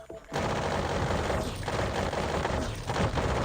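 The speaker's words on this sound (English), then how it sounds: "It's actually better that I take the assault rifle over the LMG." An assault rifle in the VR shooter Sweet Surrender, played on Quest 2, starts firing and sustains loud, rapid automatic fire with a brief dip midway, dense overlapping shots filling the few seconds.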